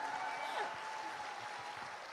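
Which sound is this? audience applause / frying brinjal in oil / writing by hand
audience applause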